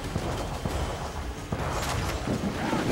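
Ship cannons in Assassin's Creed 4: Black Flag boom in a dense, rumbling barrage of overlapping blasts and crashes, loud and continuous throughout.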